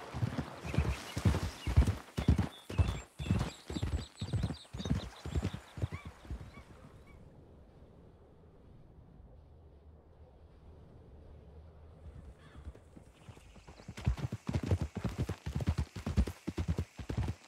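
Horse hooves clip-clop in the Western video game Red Dead Redemption 2, a steady close trotting rhythm that stops for several seconds of near quiet before the hoofbeats resume.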